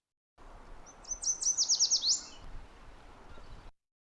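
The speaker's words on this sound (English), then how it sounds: "Yellow warbler was one of the first songs that I learned" A yellow warbler sings a single short song of quick, sweet, high repeated notes rising in a rapid trill, clear and fairly close over a quiet background.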